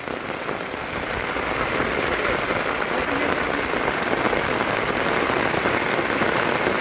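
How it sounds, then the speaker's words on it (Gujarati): Rain falls steadily on a camping setup in Gujarat, a dense, even hiss of drops on the surfaces around, close and continuous with no talk. "તો ફટાફટ વરસાદ ચાલુ થઈ ગયો"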